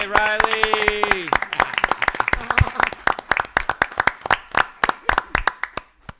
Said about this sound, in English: let's give Riley another round of applause